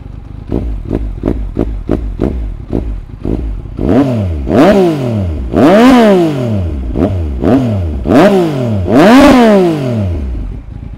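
A 2017 Yamaha MT-09 motorcycle with a Revoc full-system exhaust fires up with quick rhythmic chugs, then revs repeatedly, each rev rising and falling sharply, loud and close.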